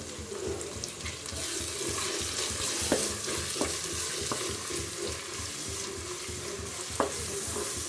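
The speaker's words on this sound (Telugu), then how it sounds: "పచ్చిమిర్చిలు కూడా కొంచెం వేగినాయి కాబట్టి నేను టమాటాలు వేసేసిన" Onions, green chillies and tomatoes frying in a clay pot, a close, continuous sizzle and bubbling with a few sharp clicks of stirring, no talk.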